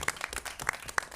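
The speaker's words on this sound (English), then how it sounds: "big round of applause" Scattered applause at a city council study session, a handful of sharp, uneven claps, faint and brief.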